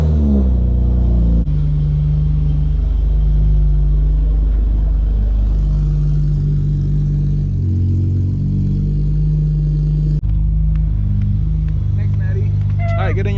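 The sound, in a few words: Acura TL car driving on test drive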